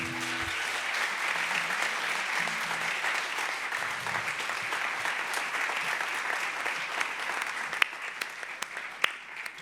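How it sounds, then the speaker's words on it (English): A large audience at an arts awards ceremony in Saskatchewan claps in sustained, dense applause that holds steady for several seconds, with a few louder individual claps standing out near the end and no clear talking. "Another round of applause"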